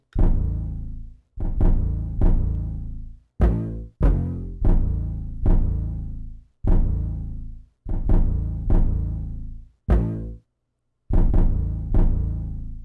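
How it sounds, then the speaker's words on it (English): A heavy 808 bass pattern made in FL Studio for a beat, with loud booming sliding notes that stop and start in a choppy rhythm with short gaps of silence. "we have the second 808 pattern"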